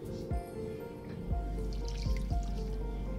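Three-quarters of a cup of water poured into a pot to make syrup for cheese kanafeh: close, brief trickling and dripping splashes over a steady low hum, no voices.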